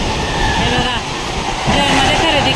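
Steady rumble and rattle of a moving train carrying passengers near Panvel, with faint voices in the carriage over the continuous clatter.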